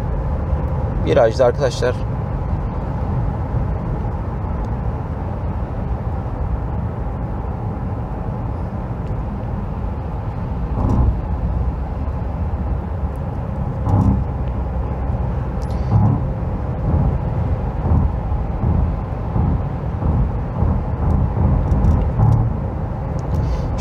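A car drives at speed on a highway with a steady engine and road roar; someone talks continuously over the noise.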